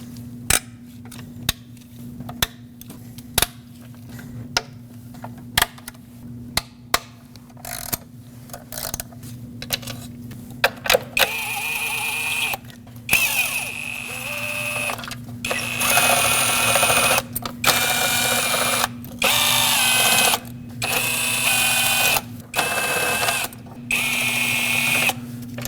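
A wrench breaks free 10mm nuts and 5mm Allen bolts on a 2006-2015 Lexus IS250 intake manifold, giving sharp isolated clicks and snaps that turn into a busier, denser stretch of close mechanical ratcheting, with no talking.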